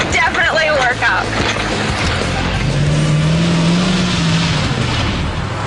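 An off-road vehicle drives around sand dunes, its engine a loud continuous rumble with a rising whine midway, rough and steady throughout.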